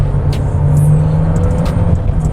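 A Jaecoo J7 accelerates hard, a loud, steady road-and-motor roar inside the moving car with a faint whir, no one talking.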